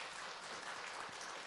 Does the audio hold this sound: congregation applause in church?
yes